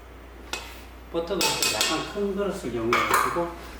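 Metal and glass mixing bowls clink and clatter while sponge cake batter is transferred into a larger bowl with butter, giving a sharp tap and then a run of close, ringing knocks and scrapes.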